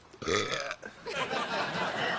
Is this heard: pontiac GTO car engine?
no